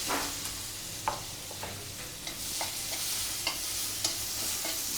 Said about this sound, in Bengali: এখন আমার জন্য তরকারি রান্না করব, এই জন্য পেঁয়াজ দিয়ে দিচ্ছি